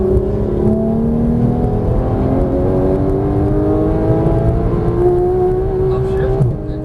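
A Porsche 991 GT3 engine accelerating on a race track, heard from inside the car as a steady rising drone with the pitch climbing, loud and close, while someone talks over it.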